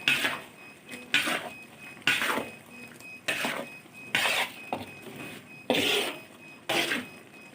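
Repeated scraping and clinking of a spoon against a pot while stirring gulai toco, an Indonesian curry, coming in regular strokes roughly once a second.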